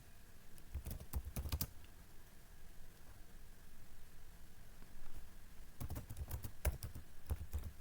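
Computer keyboard typing a Python command into a terminal, heard as two quick bursts of close keystrokes separated by a quiet pause of several seconds, with no talking.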